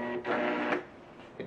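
A GoDEX G500 label printer draws in reflective number plate material with a loud mechanical whirring burst, then falls quiet before a brief second whir.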